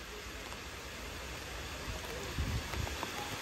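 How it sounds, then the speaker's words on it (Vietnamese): Steady rain pours outdoors over a rural garden-house property with a fenced yard, a continuous wash of hiss with a few louder close drips or splashes near the end. "Do em đang quay trời mưa, hình ảnh nó không được chất lượng nha anh chị."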